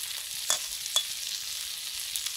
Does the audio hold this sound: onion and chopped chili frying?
yes